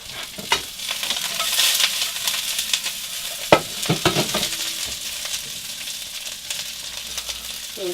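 Garlic, spring onion, chilli and ginger sizzle steadily on a small stove, with sharp utensil scrapes and clicks breaking through the continuous frying hiss, close and fairly loud, with no talking.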